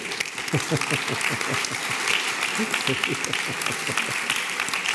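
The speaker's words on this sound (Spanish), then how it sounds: "Vamos a darle un aplauso a Santos Julián." Audience applause at a cultural talk event with Luis Landero and Juan Cruz, a steady wash of clapping hands filling the room, heard alongside a voice speaking Spanish over it.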